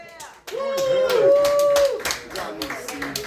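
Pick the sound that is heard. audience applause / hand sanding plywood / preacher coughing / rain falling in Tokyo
audience applause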